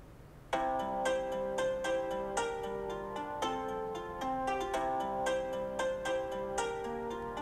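A mobile phone ringtone sounds in a Vietnamese TV drama: a loud, bright electronic melody of repeating tuned notes starts abruptly after half a second and plays steadily to the end, with no one speaking.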